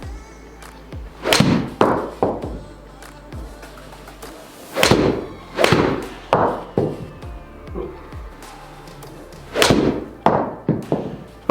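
Golf 6 iron shots hit with a stiff 5.0 shaft give three loud, sharp strikes spaced several seconds apart, each followed by a few softer thuds and knocks, heard close with no talking.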